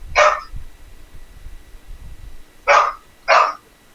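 A dog barks three times, one sharp bark followed after a pause by two quick barks in succession, fairly close and clear over a quiet room background.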